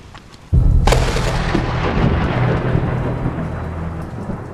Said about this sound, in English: Deep thunder is rolling over the plains